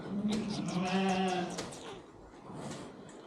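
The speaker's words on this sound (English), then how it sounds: "Oh, these baby cows." A young calf gives a drawn-out, wavering bleat close by in a field on the Cumbria Way, England, followed by quieter shuffling outdoors.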